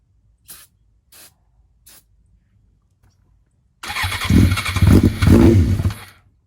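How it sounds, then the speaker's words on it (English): Three quick hissing bursts of starter fluid spray, a pause, then a Suzuki GSX-R600 motorcycle engine cranks and sputters to life, running roughly and loudly for a couple of seconds before cutting out. "I'm gonna spray some starter fluid in there and see if this engine's even got any life in it"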